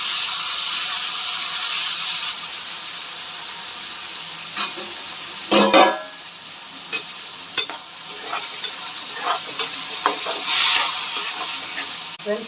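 Tomatoes sautéing in a pan for stingray fish gravy, with a soft steady sizzle and several sharp stirring clatters and scrapes from about the middle onward, close and moderately loud.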